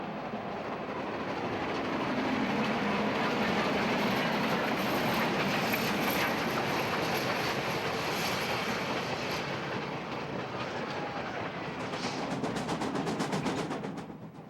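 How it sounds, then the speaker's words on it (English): A steam train on the Grand Canyon Railway chugs out of the yard with a loud, steady rumble and rhythmic clatter of wheels, rising and easing slightly, then a rapid clicking near the end. "the train chugs out of the yard through colorful carpets of sunflowers."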